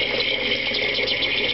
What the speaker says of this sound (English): the boiler is refilling itself with water